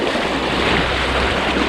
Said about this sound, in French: Vous voyez les big vagues.